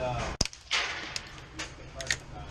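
A suppressed CZ Scorpion EVO pistol fires a single sharp, close report near the start, with people talking over the outdoor background before and after.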